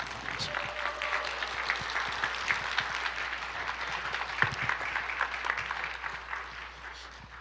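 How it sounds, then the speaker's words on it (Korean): An audience in a church evening service applauds a guest doctor after his lecture, a steady broad wash of clapping that holds for several seconds before thinning slightly at the end. "우리 귀한 강의해 주신 박사님께 다시 한번 박수로 감사하겠습니다"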